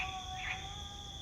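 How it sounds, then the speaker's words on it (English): Steady high-pitched cricket trilling at night holds as a continuous drone throughout, faint and distant, with no voices present. "You can probably hear the birds and the crickets right now"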